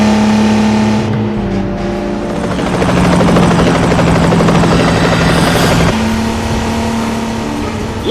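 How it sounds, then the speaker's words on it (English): Helicopter in the PS2 game James Bond 007: Agent Under Fire, a loud, close rotor and engine roar mixed with vehicle engine drone, its pitch briefly shifting as it sweeps past, with no speech. "Watch out for that helicopter!"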